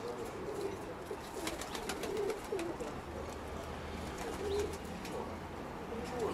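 Young pigeons in a loft coo softly and steadily throughout, with scattered chirps and faint background rustling at low level.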